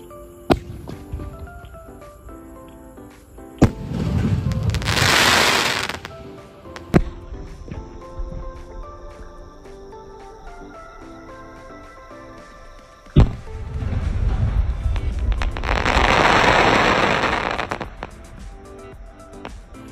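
Sony big Diwali skyshot fireworks launch with sharp cracks, each followed by a long, loud, hissing whoosh and crackle, two main bursts several seconds apart heard outdoors over a faint background drone.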